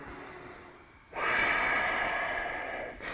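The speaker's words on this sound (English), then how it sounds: "Big inhale, exhale." During a yoga stretch in a handstand practice session, a quick inhale breaks a near-silence, followed by a long, loud, airy exhale that holds steady close to the mic, then a short fresh breath at the end.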